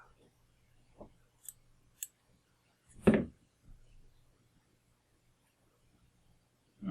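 Scissors trim thread butt ends while tying a Hotspot Perdigon nymph fly: a few faint snips and clicks, then one louder, close cut around the midpoint, with quiet gaps between.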